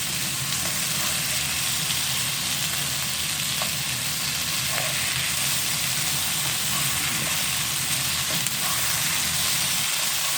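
Vegetables and chicken for shashlik masala stir-frying on high flame, a steady loud sizzle and hiss that keeps up without a break, with no voices.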